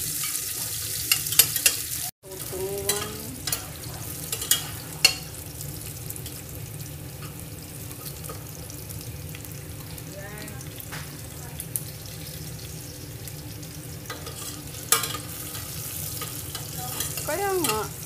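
Garlic frying in a pan until browned makes a continuous close sizzle alongside stirring scrapes and some running-water noise, with a brief voice now and then.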